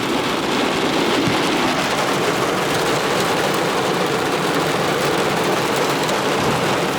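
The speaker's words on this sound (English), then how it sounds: "Little rain delay, boys." Steady, loud rain falls continuously as a dense, even hiss with no pauses, heard alone throughout on a rainy workday for a pressure washing crew.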